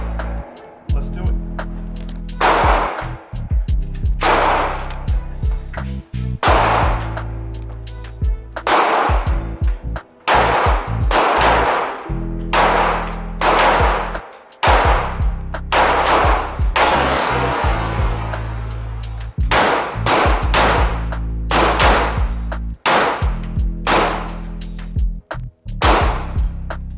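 A Smith & Wesson Shield Plus Carry Comp compensated pistol fires at an outdoor range, with sharp, loud shots coming singly and in quick strings throughout, separated by brief pauses.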